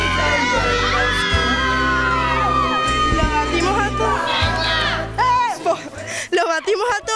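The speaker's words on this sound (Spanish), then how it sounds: "Quiero que todos griten juntos para que llegue la receta." Guests at a fifteenth-birthday party shout together loudly as a crowd over thumping party music, a sustained burst of mixed voices that breaks into scattered cries near the end.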